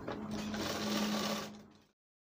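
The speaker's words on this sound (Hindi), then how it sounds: "अब इसको यहाँ से बराबर करके सिलाई मारेंगे।" A sewing machine stitches a kalidar kurta in one steady, close whirring run that holds for nearly two seconds and then stops abruptly.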